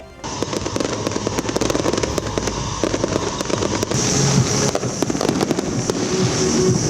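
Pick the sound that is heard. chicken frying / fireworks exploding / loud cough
fireworks exploding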